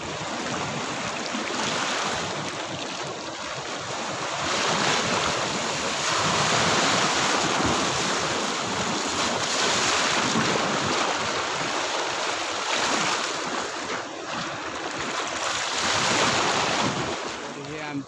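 Sea waves washing continuously onto the coast near Mobar in Keloos during heavy rain, a loud, broad roar of surf with gentle swells and wind buffeting the microphone, no speech.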